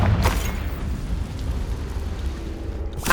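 Explosive bursts from the Confringo blasting spell in Hogwarts Legacy: a sharp blast at the start, a rumbling fade, then another blast at the end.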